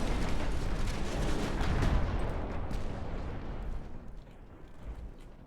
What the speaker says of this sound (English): I thought the battleship would go straight, but it's not. And that means... torpedo hits.